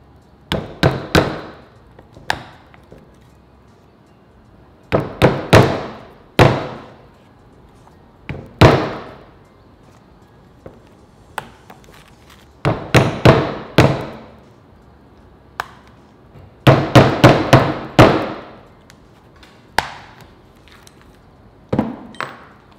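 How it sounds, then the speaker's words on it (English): Holes being punched in a leather cuff bracelet for rivets and buckles: loud, close, sharp hammer strikes on a punch, coming in quick clusters of several blows separated by short pauses. "we have to punch out the many, many holes for all of our rivets and our buckles"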